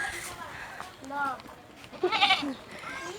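A goat bleats twice along a village dirt path, the wavering calls close and moderately loud, with a quiet outdoor background between them.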